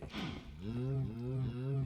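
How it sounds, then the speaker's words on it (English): Cows in the video game Minecraft moo in a few drawn-out, low lowing calls that follow one another closely, fairly loud and close. "let's go see if those cows have grown up"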